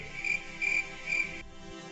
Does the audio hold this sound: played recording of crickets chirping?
yes